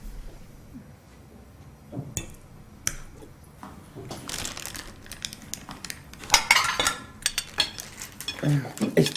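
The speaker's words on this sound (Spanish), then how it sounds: "Con los cubiertos, usa el tenedor." Fork and cutlery clinking and scraping on a plate during breakfast, scattered irregular taps growing busier and louder toward the end, close up with faint room noise.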